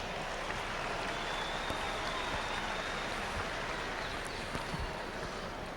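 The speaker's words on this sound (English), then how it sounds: "Let's give them a nice round of applause." A grandstand crowd at a truck and tractor pulling event in Louisville, Kentucky applauds from a distance, a faint, even hiss of many hands that runs steadily throughout.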